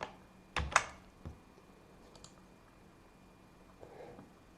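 A few brief keystrokes on a computer keyboard, pressing Control-C in an Ubuntu terminal, two sharp clicks close together then a softer tap, close and clear against a quiet room.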